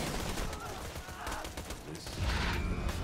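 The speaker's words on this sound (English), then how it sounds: "Who's shooting me?" Gunfire in Borderlands 2 rattles under a busy game mix, scattered shots and mechanical clatter running throughout, with a louder rumble near the end.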